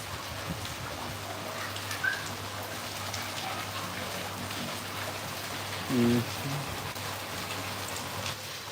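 Heavy monsoon rain in Dhuri, Punjab hisses and patters across surfaces without pause, a dense even wash of sound with no voices.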